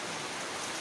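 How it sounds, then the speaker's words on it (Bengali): Heavy monsoon rain of the Shravan season pouring down in a steady, dense hiss, with no breaks or distinct drops standing out during a short stretch. "প্রতিদিন প্রতি মুহূর্ত বৃষ্টি হয়েই যাচ্ছে।"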